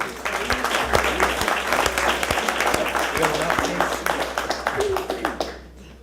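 Applause for firefighters fills a city council chamber, a steady wash of clapping over several seconds that fades out at the end, with voices murmuring underneath and a low hum throughout.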